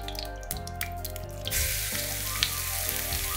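Marinated mutton or beef frying in hot mustard oil, a steady sizzle that swells louder midway as the meat is stirred, with faint clinks and tonal background hum.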